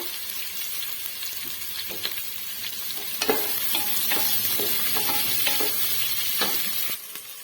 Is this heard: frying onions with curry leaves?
yes